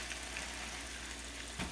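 Bacon frying in a pan for a breakfast sandwich, a steady faint sizzle and crackle with one small sharp tap near the end.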